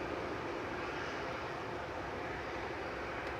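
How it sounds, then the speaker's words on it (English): Steady broadband roar of an EasyJet Airbus A320 Classic on its takeoff roll at Manchester Airport, heard from a distance as an even rushing drone with no talking. "On the roll now is EasyJet flight 2229 to Prague, EZRZ, A320 Classic."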